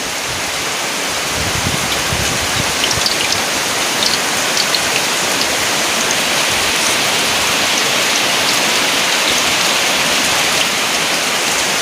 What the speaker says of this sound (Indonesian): Hujannya deras banget teman-teman tuh